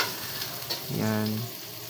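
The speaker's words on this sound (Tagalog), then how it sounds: "ilagay na ang ating sibuyas at bawang sa same kawali lang" Onion and garlic sautéing together in a pan, a short close sizzle with a stirring scrape and a brief tonal squeal in the middle, heard alone without speech.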